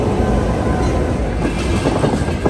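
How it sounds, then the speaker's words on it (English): A Kuranda Scenic Railway train rolls steadily along the rails through the tropics, a dense continuous rumble with faint rhythmic clatter from the wheels, close and loud throughout. "Why not join me for a trip aboard the Kuranda Scenic Railway?"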